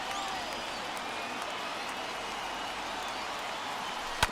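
Steady, broad roar of a large stadium crowd cheering in MLB The Show 21, a baseball video game, continuous and moderately loud throughout with one sharp crack near the end.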